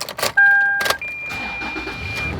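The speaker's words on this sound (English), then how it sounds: "try and turn on the car and see what it looks like" A 2010 Toyota 4Runner being started, heard as short clicks and a brief chime at close range, then a steady low engine hum settling in.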